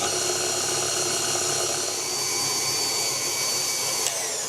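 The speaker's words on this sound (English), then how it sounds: "we're gonna pop this back on to the mixer and just mix it until it all combines" A stand mixer with a paddle beats lemon cupcake batter at medium speed, giving a loud steady whirring motor hum that carries on throughout with no speech.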